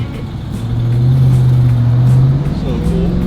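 Dodge Hellcat car: a loud, deep engine drone swells and holds for about two seconds before easing off, with a voice talking over it.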